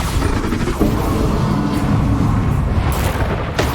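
A Bombarda spell explosion in a wizard video game, heard as a dense, loud blast rumbling steadily for several seconds with crackling debris and no speech over it.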